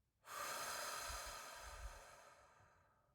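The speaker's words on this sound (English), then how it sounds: "take a few deep breaths" One long, deep breath drawn in and slowly let out, close and soft, fading at the end, with no talking.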